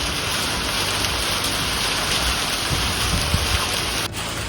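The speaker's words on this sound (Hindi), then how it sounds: "बारिश भी क्या, ओले पड़ रहे हैं" Hail pelting down on the Churdhar peak, the highest point of the Shivalik range, as a steady, dense hiss and patter of impacts that continues unbroken and close throughout.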